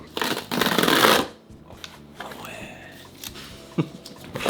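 A packaging tab is pulled off while a computer is unboxed indoors, making a loud papery rip and rustle that lasts about a second. Quieter handling noises and faint voices follow.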